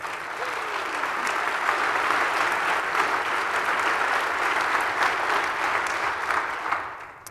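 Audience applause at the Bits & Bäume 2018 conference on digitalisation, dense and sustained clapping from a large crowd rising, holding steady for several seconds, then tapering off.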